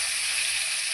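Onions and cumin seeds frying in hot oil give a steady, close sizzle that stays even and fills the whole second with bright hiss and no talk.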